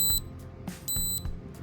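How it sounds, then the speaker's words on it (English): An ESP32-S3 development board's onboard electronic buzzer beeps in short, high-pitched pulses, two clear bursts with quieter blips between, close by. "the onboard buzzer sounds at frequency of 400 kHz"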